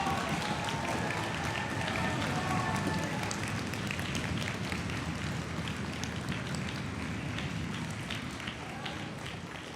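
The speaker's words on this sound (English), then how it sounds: "give them a big round of applause" Audience applause for teachers at the closing of a youth nuclear peace summit, a sustained dense clapping from a large crowd, steady and full throughout and tapering slightly at the end.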